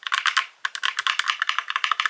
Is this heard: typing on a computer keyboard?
yes